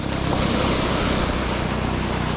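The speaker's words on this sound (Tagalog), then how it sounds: "Malaki pa yung alon hanggang ngayon." Ocean waves rushing and churning loudly, mixed with strong wind buffeting the microphone, a steady roar without speech.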